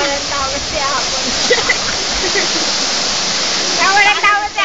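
A waterfall roars steadily with loud, continuous rushing water, while voices and laughter sound faintly beneath the torrent.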